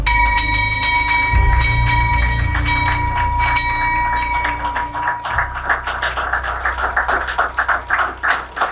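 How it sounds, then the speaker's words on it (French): A ringing bell sounds at a stock exchange listing ceremony, struck repeatedly in a steady run of bright metallic clangs that sustain and overlap, loud and close, before giving way to a pulsing clatter of applause-like noise. "il est bientôt l'heure de sonner la cloche"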